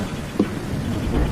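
Heavy rain pours at night in a cartoon scene, a dense steady hiss with a low thunder rumble underneath and a brief soft thump partway through.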